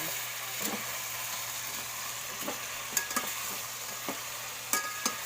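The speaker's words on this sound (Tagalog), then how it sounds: "buksan natin at ating ihalo" Chicken tinola with chayote being stirred in a pot just after the lid comes off, with a steady low simmer and sizzle under it. Scattered ladle clinks and taps against the pot land irregularly, growing sharper toward the end.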